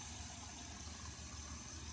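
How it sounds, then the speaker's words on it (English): Cold tap water runs steadily into a pan after boiling eggs, a faint, even rushing stream with no voices. "run cold water into the pan to quickly cool the egg"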